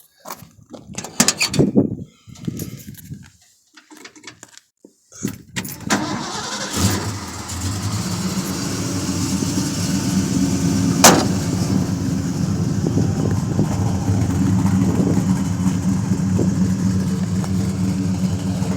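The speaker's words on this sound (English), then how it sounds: "show you my pickup, and I'll start it up and let it idle for you" A 1972 Ford F100 shortbed pickup's engine cranks in a few bursts, catches around the five-second mark, then settles into a loud, steady, rumbling idle heard up close with no talking.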